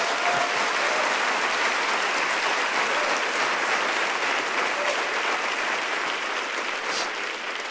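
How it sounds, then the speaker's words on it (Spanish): A church congregation bursts into loud, sustained applause for the Lord, a dense, steady wash of clapping from a large crowd that holds evenly throughout. "¿Cuánto le dan un aplauso fuerte al Señor?"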